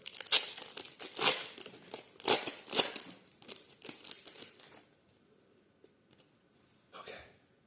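A foil Pokémon trading card pack is torn open and handled, with sharp crinkling rips and crackles in bursts for about five seconds, then near quiet and one last crinkle, all close to the listener.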